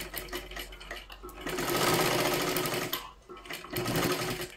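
Sewing machine stitching a hook strip onto a three-piece princess-cut blouse, running continuously and close with a dense mechanical whir that surges and eases slightly, with no talking.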